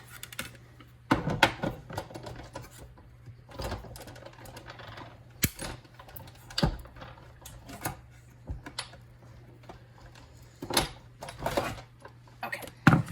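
A Big Shot die-cutting machine is cranked through layered paper ovals, giving a run of irregular close clicks, clunks and ratcheting knocks against a low steady hum.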